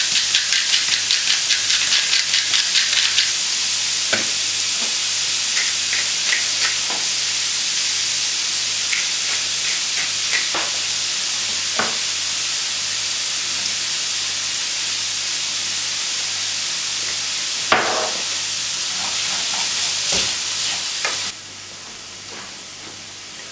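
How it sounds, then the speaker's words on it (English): Ground hamburger meat seasoned with salt, pepper and Worcestershire sauce hisses steadily in a pan on the stove, a loud constant sizzle with occasional pops before the heat drops near the end. "since the hamburger meat is basically done cooking here, I'm going to turn off the stove"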